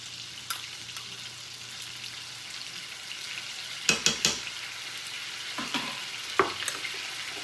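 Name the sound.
smoked sausage and garlic sizzling in a pan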